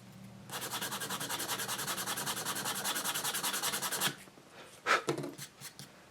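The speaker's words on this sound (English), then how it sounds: "I'm going to have to sand that down so it doesn't kind of roll" Sandpaper rubbed back and forth over the sharp edge of a small wooden part for a model Scottish motor fishing vessel, a steady rapid run of close scratchy strokes for about four seconds, followed by a few louder scattered rubs.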